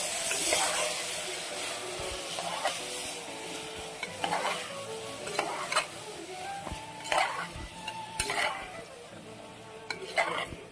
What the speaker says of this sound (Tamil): தக்காளி கிட்ட நல்லா சேர்க்குற மாதிரி நல்லா கிளறி விடுங்க.